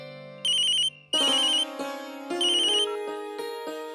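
A phone ringtone plays while a call is placed: a repeating bright electronic melody in short bursts, loud and close, with no talking over it.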